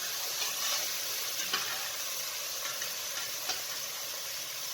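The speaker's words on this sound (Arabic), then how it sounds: "نحمس اللحم كل زين على مود نذب البانية" Meat for okra stew browning in a pan with a little oil, giving a steady close sizzle and hiss with faint stirring scrapes and small pops throughout.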